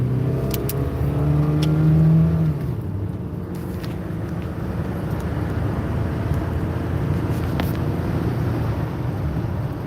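A 2.7-liter DOHC car engine with misfiring cylinders idles roughly and unevenly, with a stumbling, uneven rumble and a brief rise in revs near the start.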